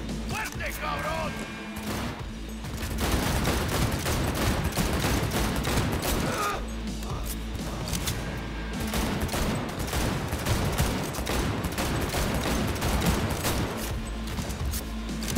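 Dense, sustained automatic gunfire and bursts of shots in the video game Cyberpunk 2077, loud and continuous across the whole stretch with crashing impacts and layered game sound mixed underneath.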